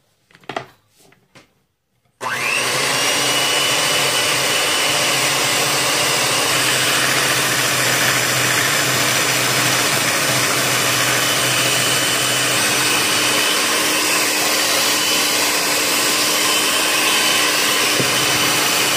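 An electric mixer whips egg whites for battering cauliflower, starting after a few quiet clicks and then running as a loud, steady motor whine with a rattling buzz that holds for the rest of the stretch.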